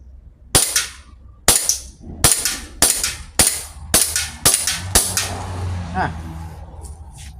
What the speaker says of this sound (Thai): มา ทดสอบยิงนะครับ